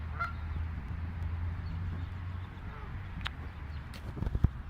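Large birds, goose-like, honk outdoors near the museum in Philadelphia, a few brief calls over a low rumble of wind and distant traffic, with a sharp tap near the end.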